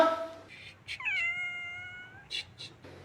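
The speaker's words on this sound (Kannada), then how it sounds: "ಆ ಬಿಳಿ ಬೆಕ್ಕಿನ ಭಾಷೆ ನಿಂಗೇನಾದ್ರು ಅರ್ಥ ಆಯ್ತನು?" A white cat lets out a few clear, drawn-out meows. They are close and fairly quiet, with brief gaps and small scuffling sounds between them.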